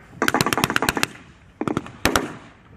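Blank gunfire at a World War 2 reenactment at Crowle cracks out in a quick burst of about nine rapid shots, then a pause, a short burst of three and two final shots, moderately distant and outdoors.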